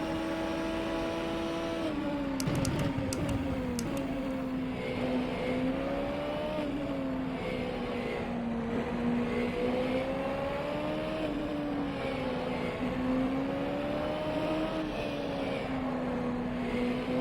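Engine of a Nissan GT-R GT500 race car in the rFactor 2 racing game at NOLA, a loud continuous drone rising and falling in pitch with throttle and gear changes, with a few brief clicks near the start and no talking.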